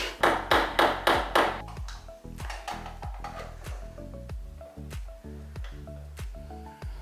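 Sharp metallic hammer taps strike repeatedly as picture hooks are driven into a living-room wall, a quick burst of ringing blows followed by steadier, spaced knocks with a bright ping to each.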